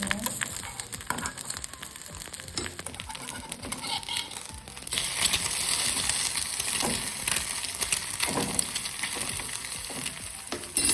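An omelette frying in a pan for dinner in a home kitchen, a steady close sizzle that grows louder and denser partway through, with faint scraping and stirring on top.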